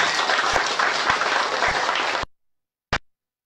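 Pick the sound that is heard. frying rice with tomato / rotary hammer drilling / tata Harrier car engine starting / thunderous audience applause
thunderous audience applause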